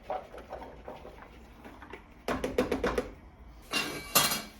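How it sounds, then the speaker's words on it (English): Ground turkey with chopped peppers, onions and garlic tipped into a hot pan, heard as scattered light scrapes followed by bursts of rapid clattering and rattling of a utensil against cookware, close and fairly loud. "Once your pan's hot, add in the turkey, and then add in your peppers, onions, and garlic mixture"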